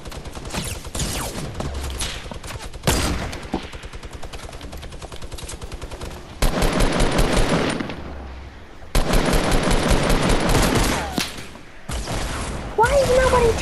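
Rapid machine-gun bursts and sharp sniper shots from the video game Fortnite, loud and close, arriving in several heavy volleys with short gaps while players talk excitedly over the fire.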